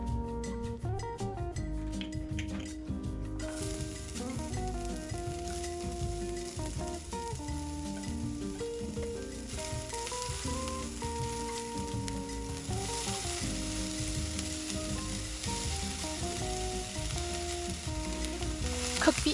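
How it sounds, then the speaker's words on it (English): Aromatics sizzling and frying in a single pan for keto sloppy joe sliders, a steady crackling hiss with occasional stirring scrapes, all under bright background music. "Cook the aromatics for about 5 or 6 minutes."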